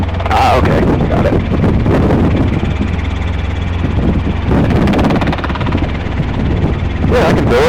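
Robinson R22 helicopter running loud and close, a dense rotor and engine roar with wind buffeting that continues unbroken throughout.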